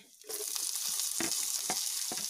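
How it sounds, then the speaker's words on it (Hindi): Carrots with mustard seeds, cumin and curry leaves frying in a hot pan, starting abruptly as a bright, crackling sizzle with sharp popping bursts, close and steady, no voices. "इसे मिक्स कर लेंगे दो मिनट इसे रोस्ट कर लेंगे"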